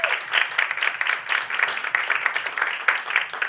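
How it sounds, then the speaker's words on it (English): An audience claps for a Tulsa Public Schools student at a teachers' panel event, a moderate round of applause with an uneven, pulsing rhythm and no talking. "Give a round of applause for her,"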